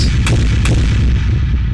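A hard techno kick drum is fed fully through a convolution reverb and an amp on blues mode, producing a loud, continuous low rumble with a couple of muffled hits early on.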